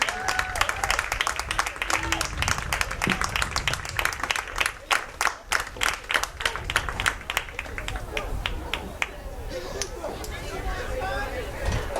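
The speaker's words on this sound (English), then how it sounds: "Let's have one last round of applause for our senior athletes" Crowd applause for senior athletes at a Deering High School boys' soccer home match, scattered clapping building into a dense round and then thinning out, with crowd chatter and voices mixed in.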